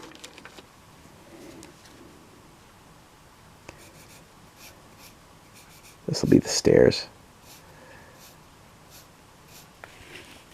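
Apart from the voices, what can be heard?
sharpened pencil writing on paper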